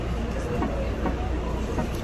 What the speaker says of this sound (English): we're here today in the train station